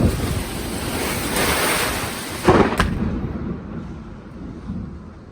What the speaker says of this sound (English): So a storm's rolling through right now.